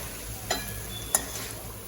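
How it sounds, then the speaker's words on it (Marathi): A mixed bamboo vegetable dish is stirred in a frying pan over a faint steady sizzle, with two brief spoon clinks against the pan about half a second apart. "इथे बघा मी मस्तपैकी फिरून घेतलेली आहे भाजी एकदम मिक्स करून घेऊया"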